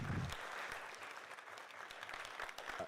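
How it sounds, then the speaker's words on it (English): Audience applause at a public hearing on bias-related bullying, a steady sustained patter of clapping heard from a moderate distance, fairly quiet and continuous throughout. "let's give them another good round of applause"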